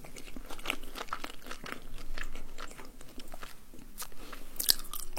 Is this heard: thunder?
no